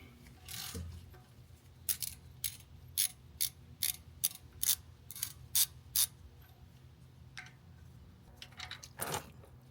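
A socket ratchet loosens the 17mm oil drain plug on a 2022 or later GR86/BRZ, giving about a dozen quick, evenly spaced clicks, close and clear over quiet room noise, with a few scattered clicks at the end.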